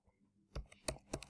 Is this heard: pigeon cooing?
no